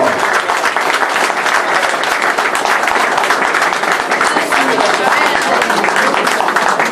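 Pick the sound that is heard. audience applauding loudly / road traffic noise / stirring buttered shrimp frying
audience applauding loudly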